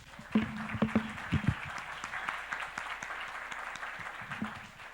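A church congregation applauds, with a few sharp claps at the start, then steady, moderately loud clapping from many hands that carries on evenly under faint voices.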